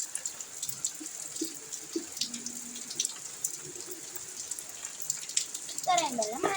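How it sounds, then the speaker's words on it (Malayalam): Water pours into a bowl being readied for small fish, a steady faint trickle with light splashing, and a voice comes in near the end. "ഇതിനകത്ത് കുറച്ച് വെള്ളവും ആണ് നമ്മളിപ്പോൾ ചേർക്കുന്നത്."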